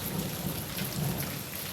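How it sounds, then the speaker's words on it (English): Steady rain pours down with a continuous hiss, while deep thunder rolls underneath, filling the whole moment with dense, even storm noise and no voices. "Just a rainy day going. It's a good rainy day."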